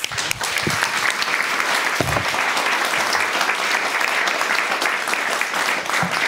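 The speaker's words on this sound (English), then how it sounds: "Give them a warm hand of applause." Loud, sustained applause from the audience at a European literature panel event, a dense roar of clapping with a few sharp individual claps near the start, holding steady throughout.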